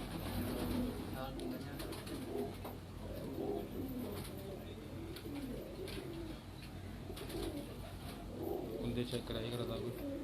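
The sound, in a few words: female pigeon cooing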